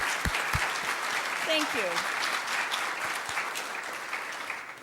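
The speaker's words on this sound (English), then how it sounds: "we might give you a little round of applause and say howdy" Church congregation gives a warm round of applause welcoming first-time visitors, a steady wash of many hands clapping that fills the hall, with someone briefly speaking over it.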